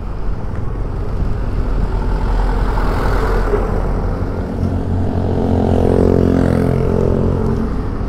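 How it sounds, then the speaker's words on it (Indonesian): A heavy engine roars steadily close by, a truck rumbling past on an Indonesian road with a deep, continuous drone that swells slightly toward the end. "ada truk bro"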